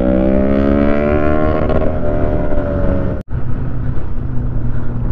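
Kawasaki ZX10R superbike revving hard at full throttle on a road ride among many bikes, a loud, rising multi-harmonic engine wail that holds steady, briefly cuts out, then resumes as a lower roar.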